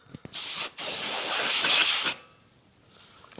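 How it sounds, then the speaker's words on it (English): An aerosol spray can hisses inside an Xbox 360 console in two bursts, a short one and then a longer steady one of about a second and a half, loud and close, before falling to quiet. "Act like you're spraying the Xbox."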